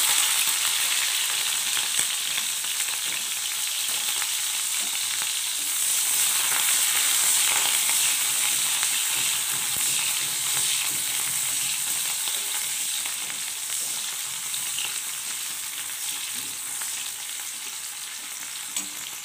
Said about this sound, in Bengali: তারপর তেলটা গরম হয়ে গেছে, আমি পেঁয়াজ মরিচ দিয়ে দিব মধ্যে।